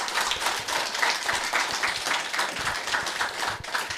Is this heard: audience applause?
yes